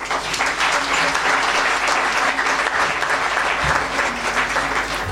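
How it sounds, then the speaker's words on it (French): Steady, loud applause from a church congregation for a former choir master at a jubilee thanksgiving celebration, continuous clapping throughout. "Nous pouvons l'applaudir."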